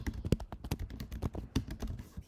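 Quick, uneven clicks of fingers typing an email on a computer keyboard, close and fairly quiet, a steady patter of keystrokes with short pauses and no talking.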